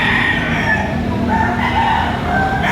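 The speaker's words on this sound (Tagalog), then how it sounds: "Mag-iisang taon manok na ito." A rooster crows loudly and close in a Filipino backyard gamefowl setting, a long drawn-out call followed by a second crow and some clucking, with no talk.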